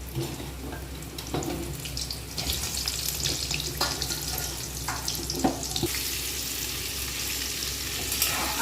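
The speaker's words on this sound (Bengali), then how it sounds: "আমি একটা পেঁয়াজ দিয়েছি এটা ভেজে দেবো তেলের ভিতর" Onion fries in hot oil in a kadai, a steady close sizzle with bursts of stirring and spoon scraping against the pan, alone with no voices.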